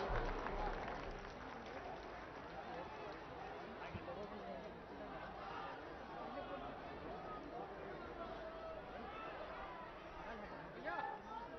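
A large crowd of women at a women's empowerment rally in Uttar Pradesh sends up steady applause blended with crowd chatter and babble. The sound is a dense, distant-sounding roar that holds for the whole stretch.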